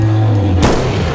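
A single loud gunshot cracks out about halfway through, sharp and close, followed by a decaying rumble, fired in a video game about hunting Bigfoot.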